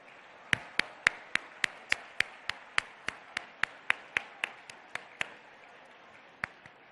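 An audience at an iftar dinner in LB Stadium claps in a steady, evenly paced rhythm to welcome Chief Minister Revanth Reddy. The claps are crisp but moderately faint, with no voices over them, and fade out toward the end.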